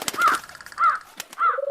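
Cartoon crows arrive with three loud, raspy caws spaced across the moment, mixed with flapping and clattering effects and a brief thin tone at the end.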